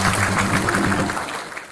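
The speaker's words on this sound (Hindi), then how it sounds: "ताली तो बजा ली।" An audience claps after a poem recital, a short burst of dense applause that fades out quickly.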